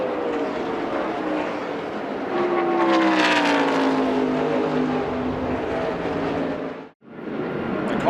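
NASCAR stock cars roaring around the Indianapolis Brickyard 400 oval in 1999 during pit stops, a continuous loud engine drone with one car passing close and sweeping down in pitch, then a brief drop-out near the end.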